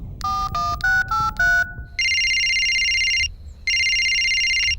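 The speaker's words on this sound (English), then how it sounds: "Can someone answer their phone?" A cartoon phone rings with a short burst of stepped electronic tones followed by two long, loud warbling ring bursts, with no talking over it.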